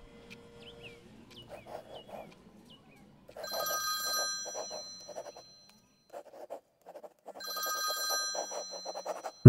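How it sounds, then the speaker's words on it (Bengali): A telephone bell rings in two long, insistent bursts separated by a quiet pause, with faint background sounds and no talking. "রোহিতের ফোন এলো"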